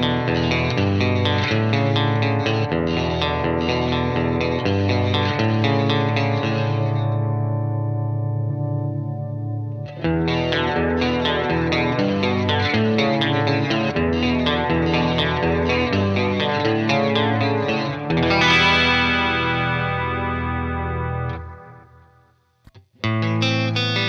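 Guitar runs through a Behringer UC200 Ultra Chorus pedal and plays shimmering, warbling chords and arpeggios in two long passages. Echo tails trail off between them before a final ringing chord fades to silence.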